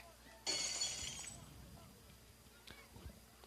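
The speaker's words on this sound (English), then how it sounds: "The broken glass sound cue comes in frequently" Breaking glass effect played over a ballpark sound system after a high foul fly ball at an Iowa–Minnesota college baseball game, one loud bright shatter with a short decaying tinkle, then crowd murmur and faint talk.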